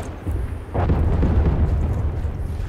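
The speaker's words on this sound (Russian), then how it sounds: "РПГ вам." An RPG rocket explodes in the multiplayer of the 2010 Medal of Honor video game. A sudden loud, deep blast is followed by a sustained rumbling roar that fills the rest of the moment.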